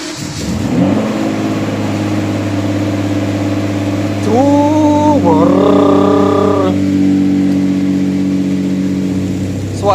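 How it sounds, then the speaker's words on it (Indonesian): A Lamborghini Diablo VT engine catches after cranking and settles into a steady, deep, loud idle rumble, with a rising tone partway through as it is revved lightly. "Suaranya nggak se-eksotis seperti Aventador atau Murcielago gitu. Tapi gemuruhnya tuh sangat berwibawa."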